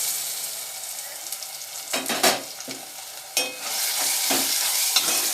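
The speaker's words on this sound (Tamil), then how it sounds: "தக்காளியை நம்ம வதக்கிக்கலாம்." Tomatoes sauté with ginger-garlic paste in a pan, giving a constant hiss of frying. Several loud bursts of stirring and scraping break through it.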